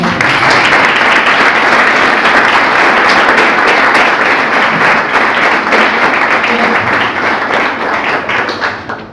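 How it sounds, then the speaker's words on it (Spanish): An audience at a local history heritage talk in El Torno applauds a speaker, a loud, sustained burst of many hands clapping that fades slightly at the end. "Le damos otro aplauso, por favor."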